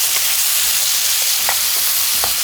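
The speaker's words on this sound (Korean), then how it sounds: "팬에다가 싹싹 긁어서 불을 중약불로 해갖고 살살 볶아주세요" Steady sizzling of Korean rice cakes being stir-fried in oil over medium-low heat in a pan, with occasional soft scraping and clinks of a utensil stirring through the food.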